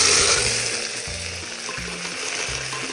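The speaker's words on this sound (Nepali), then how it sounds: "जिरा फुराइसकेपछि हामीले हाल्छौँ प्याज" Onions go into hot oil with cumin seeds, crackling in a steady fry under a low repeating hum, close and moderately loud, with no voices.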